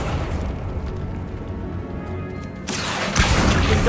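A Confringo spell bursts in Hogwarts Legacy as a loud, close rumbling boom that rolls on, followed by a sharper crashing blast near the end.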